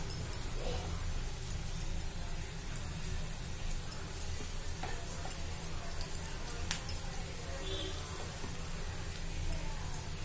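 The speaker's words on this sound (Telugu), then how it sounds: "అయితే మంచిగా ఫ్రై చేసుకోవాలి. చూడండి ఇవైతే ఇంకొంచెం ఫ్రై అవ్వాలి." Ponnaganti leaf pakodi frying in hot oil, a soft, steady sizzle dotted with small crackles and ticks that continues unbroken throughout.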